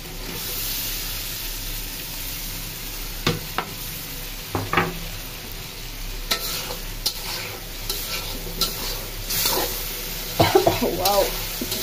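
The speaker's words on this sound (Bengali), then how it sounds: "এখন আমি মাছটা ছেড়ে দিই।" Prawns go into a hot pan of cooked-down spice paste and fry with a steady close sizzle, broken by scattered clinks and scraping stirs, with brief bursts of activity near the end.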